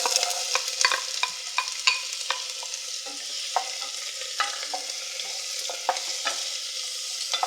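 Chopped small onion sizzling in olive oil in a cooking pot, a steady soft frying hiss broken by frequent sharp clicks and scrapes of stirring, close up with no talking.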